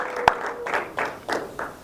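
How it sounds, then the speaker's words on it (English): Audience at a tech meetup on cryptocurrency applauds a speaker: a sharp nearby clap then moderate, uneven applause from a small group in a room. "Hey, big round of applause for Steve."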